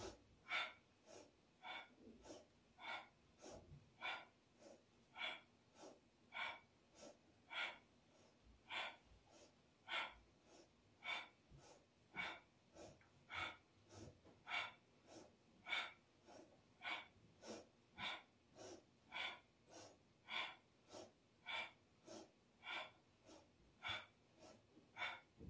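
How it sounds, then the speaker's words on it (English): Forceful rhythmic breathing during an energizing breath exercise, rapid sharp exhales repeating at a steady pace of about one per second, close and clear with no talking. "Nice, powerful breathing."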